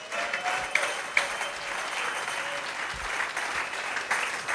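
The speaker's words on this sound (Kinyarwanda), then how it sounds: "Oh, amashyi menshi ku Mwami Yesu Kristo." A church congregation applauds during a sermon, with dense, continuous clapping from many hands holding a steady level and a few sharper claps standing out near the start.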